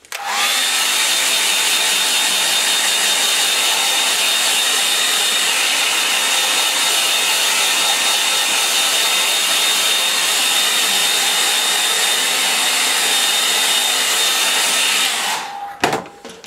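A hair dryer blows steadily and loudly, close up, drying a wet watercolour painting of a snowy Norfolk landscape, running alone for about fifteen seconds before cutting off abruptly.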